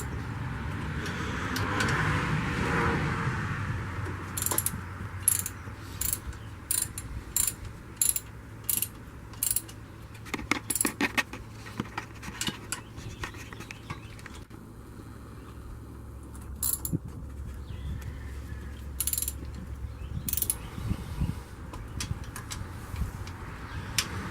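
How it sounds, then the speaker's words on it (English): A precision torque tool tightens bolts on a 2006 Buick Rendezvous during an EGR valve replacement. It gives bursts of close, sharp ratcheting clicks in quick rhythmic runs, separated by pauses, over a low steady background hum. "That's a precision torquing tool that he's using."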